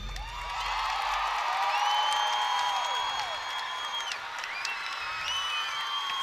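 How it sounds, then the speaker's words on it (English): Arena crowd at a college gymnastics meet cheering, whooping and applauding loudly and steadily after a routine, with shrill whistles and shouts rising above the continuous roar. "I know the crowd's gonna be chanting 10 for that one."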